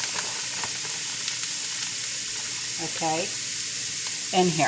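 Pork steak, boneless pork rib cut, sizzling in a hot frying pan, a steady broadband fry hiss throughout with a few brief spoken words near the end.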